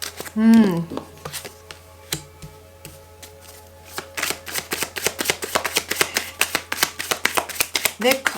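Tarot cards shuffled by hand in a run of quick, crisp riffling clicks that build and grow denser toward the end, with a brief voice near the start.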